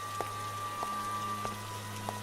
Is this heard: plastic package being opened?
no